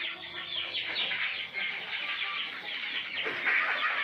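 Laying Silkie hen clucking among backyard poultry including turkeys and guinea fowl, a dense, steady stream of bright, busy clucks and calls running throughout at moderate distance, with no voices.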